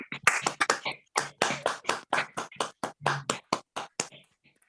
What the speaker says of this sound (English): then we'll have some applause because I feel we really need to.